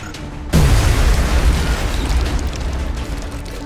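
A frag grenade detonates in XCOM Enemy Within: one sudden, loud booming blast that hits hard and then rolls into a long, dense rumbling tail that stays heavy until the end, with no voices.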